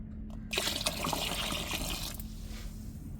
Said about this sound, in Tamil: குழம்புக்கு தேவையான அளவு தண்ணி சேர்த்துக்கிடுவோம்